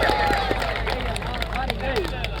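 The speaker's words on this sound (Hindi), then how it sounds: "जोरदार ताली है यार" Spectators at a volleyball match clap loudly and steadily in a dense patter of applause, with crowd chatter and voices mixed in throughout.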